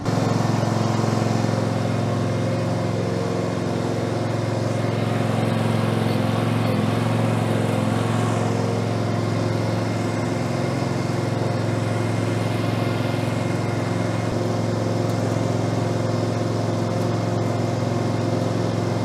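Westermann CM2 multifunction machine scraping a dairy cow yard, a close, continuous engine drone with a steady, even hum that holds throughout.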